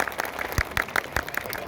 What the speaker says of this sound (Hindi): उनके लिए वहाँ तक सुनाई नहीं, उतनी तालियां होनी चाहिए।